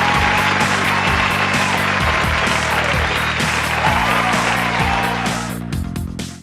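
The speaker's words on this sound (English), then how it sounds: "a round of applause for the team members who have just done an amazing job" Dense applause and cheering fill a celebration at the SafeSpot Jamaica one-year anniversary event, with confetti flying. Steady rhythmic music with a thumping beat plays underneath, and the clapping thins slightly near the end.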